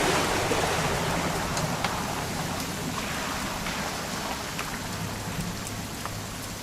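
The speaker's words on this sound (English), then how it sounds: "It's gonna rain the whole weekend," Steady rain pours in the video game What Remains of Edith Finch, a dense hiss with scattered drops pattering on surfaces, loud and continuous throughout.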